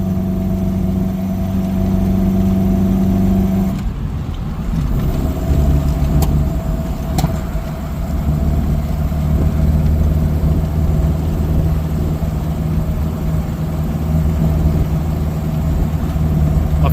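Datsun roadster with an EFI conversion running on E85, cruising at about 3,000 RPM and 40 mph in third gear: a steady, loud in-cabin engine drone with road rumble, a brief dip in the hum near the start, no talking.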